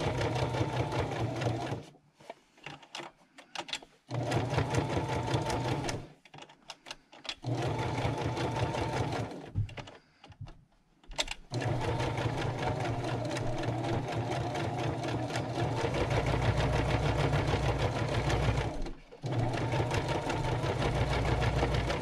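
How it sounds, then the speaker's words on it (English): A sewing machine stitches round concentric circles into paper, running in a steady, continuous whir with several brief stops and restarts, close and alone with no talking. "I'm just going to stitch, I think, around this, this, and this"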